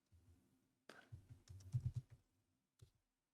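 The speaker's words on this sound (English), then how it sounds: "Let's type git." Close, quiet keystrokes on a computer keyboard as a git command is typed, a short cluster of soft taps followed by one isolated keypress.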